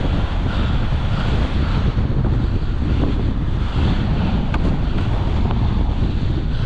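Strong wind roars across the microphone while parawing on open water, a dense, constant buffeting rush with waves and spray beneath it, loud and unbroken throughout.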